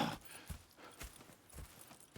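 Horse hooves clip-clop in Red Dead Redemption 2, a steady walking rhythm of four or five distinct, fairly close hoof strikes at even intervals with no talk.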